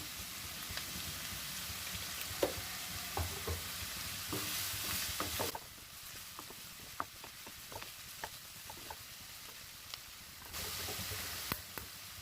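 Chinese fried rice is stirred in a hot pan with a spatula, giving a steady sizzle broken by scattered scraping clicks and taps, with a louder sizzling patch in the middle and again near the end.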